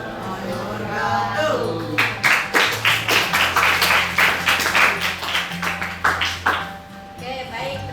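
A classroom group claps together in a steady, evenly spaced rhythm for about five seconds, fairly close and lively, with a person talking over the start and end of the applause.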